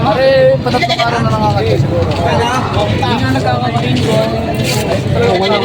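Several goats bleat over a busy background of people talking and crowd noise at a livestock market in Padre Garcia, Batangas, their wavering cries rising and falling close by.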